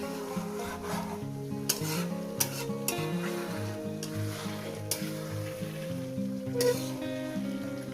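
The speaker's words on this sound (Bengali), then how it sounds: "আমি নাড়তে পারছি না বলে একটু নেড়ে দিচ্ছি" Mutton curry is stirred and fried in a pan, with repeated scraping and rasping strokes of a spoon over a steady sizzle and a low tonal hum underneath.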